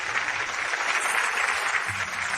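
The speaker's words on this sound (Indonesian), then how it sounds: "Terima kasih atas tepuk tangan Anda" Steady crowd applause at a fashion show greeting the designer, a dense continuous patter of clapping hands heard at moderate distance, with no voices over it.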